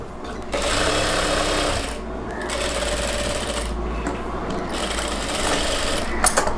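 A sewing machine stitches a chudidhar pant hem, running in steady continuous bursts with brief pauses between seams, close and fairly loud with no talk.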